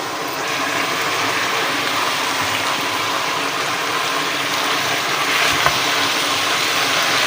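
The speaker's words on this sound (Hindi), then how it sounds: "इसमें डालेंगे थोड़ा सा पानी और इसको ज़रा हल्की आंच पे रख देंगे गलने" Water poured into a cooking pot holding minced meat and kachnar buds, a steady broad rushing gush that runs evenly throughout, close and fairly loud with no voices.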